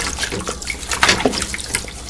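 Tap water running into a kitchen sink during dishwashing, a steady broadband splash and gush with brief surges and clinks, close and fairly loud with no talk.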